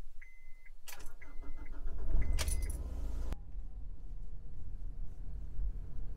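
Keys jingle and a car door thuds shut as someone gets into a car to drive off, with faint rustling and a low idle rumble afterward, all fairly quiet.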